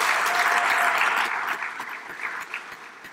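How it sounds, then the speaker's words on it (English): An audience at an announcement event applauds the city commission, a bright dense clatter of clapping that starts strong and gradually thins and fades toward the end, with a few scattered claps left. "let's give them a round of applause."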